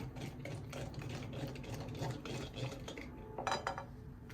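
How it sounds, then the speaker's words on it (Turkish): A spoon stirs yogurt batter with vinegar and salt in a bowl, giving a steady soft scraping and clinking with a brighter clatter near the end, close and alone without talk. "Şöyle karıştıralım önce."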